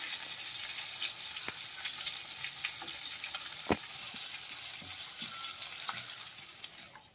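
Pomfret fish frying in oil in a pan, a steady close sizzle with scattered pops and crackles throughout, no voices.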